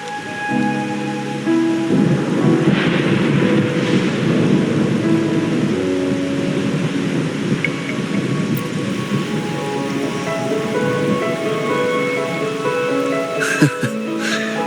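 Heavy rain pours in the video game Wuthering Waves, a dense, constant patter with low thunder rumbling underneath and a sharp crack near the end.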